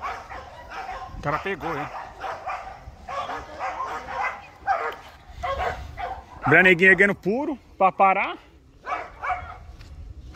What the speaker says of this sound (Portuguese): Cachorro doido, ó. Nunca viu pipa.